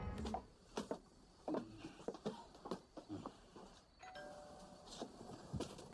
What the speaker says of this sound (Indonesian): Siapa yang menekan bel pintu?